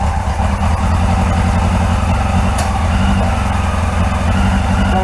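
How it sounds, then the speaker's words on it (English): A 1981 Yamaha XJ750 Seca motorcycle engine, freshly fitted with carburetors, runs steadily at a loud, close, even idle with a constant rumble and no talk over it. "She's rolling over. She's running beautiful."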